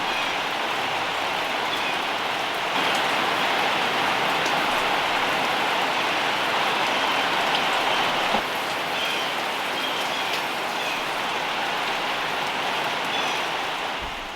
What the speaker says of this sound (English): it finally quit raining